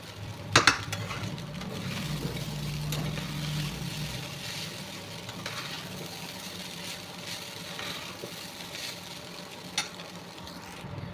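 Chow mein noodles stir-frying in a pan: a steady low sizzle with a few sharp clanks of a utensil early on, heard alone at moderate volume.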